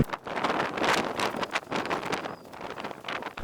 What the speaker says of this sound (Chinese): 然后还刮着风，还挺大的